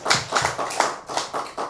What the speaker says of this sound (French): Merci de les applaudir très fort.